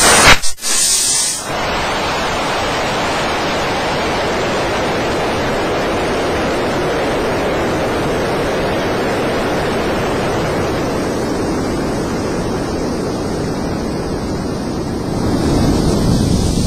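Air hisses steadily out of a tire through a Staun tire deflator, a loud, continuous broadband rush that holds for the whole stretch after a brief handling noise at the start, with no talking.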